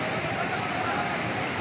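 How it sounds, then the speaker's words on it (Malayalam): A river in Wayanad runs past a house during heavy rain and a landslide, a steady broadband rush of water, fairly faint and unbroken, with no talk over it. "ഈ വീടിൻ്റെ അങ്ങേ ഭാഗത്ത് കൂടെയാണ് പുഴ പോകുന്നത്"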